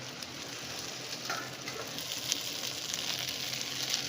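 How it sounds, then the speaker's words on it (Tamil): Pasta being mixed into frying vegetables and masala gives a soft, steady sizzle with faint scraping and stirring sounds, no voices. "இந்த பாஸ்தாவை அப்படியே சேர்த்து நல்லா கலந்து விட போகிறோம்"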